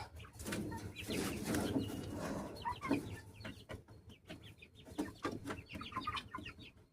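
Chickens, including guinea fowl, cluck and chatter in a busy flock, short repeated calls overlapping at close range over low background noise.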